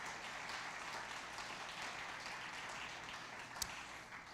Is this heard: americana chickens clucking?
no